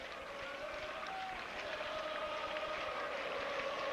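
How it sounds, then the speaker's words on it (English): Boisterous crowd applauding at a clay-court tennis match in Buenos Aires, a dense, sustained roar of clapping that holds steady and loud throughout. "The crowd, very boisterous."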